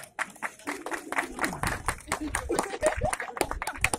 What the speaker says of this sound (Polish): Wielkie brawa dla dziewczyn.